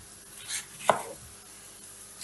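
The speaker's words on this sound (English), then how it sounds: "I'm going to just slice off some cheeks." A knife slices the cheeks off a pepper on a board while preparing grilled vegetables, giving one sharp, close cut with a soft follow-through and quieter scraping around it, no voices.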